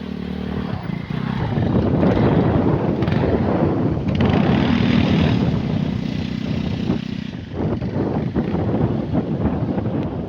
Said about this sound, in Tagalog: pamangkin ko nagmumotor dito